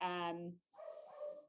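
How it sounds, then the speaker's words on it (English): A dog barks a few short times in the background, faint and distant, in a quiet indoor room. "my roommate's dog, if you hear him barking in the background"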